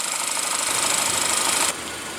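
A 2015 Chevrolet Malibu's 2.0 L turbocharged four-cylinder engine idles with a steady, even mechanical hum that holds at a constant level, then drops slightly in loudness near the end.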